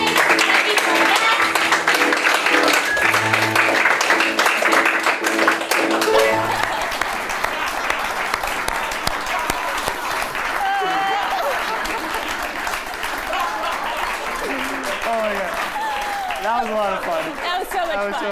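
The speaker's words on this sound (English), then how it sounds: "And applause for your clapping." Audience applause and clapping at the end of a dance class, broad and steady at first, gradually thinning as voices and chatter take over in the room.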